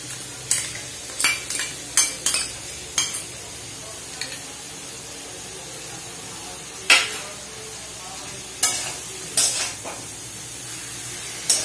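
Mushrooms fry in a pan with a prepared spice mix, sizzling steadily while a utensil scrapes and clinks against the pan in short, irregular strokes, with spoken talk over parts of it.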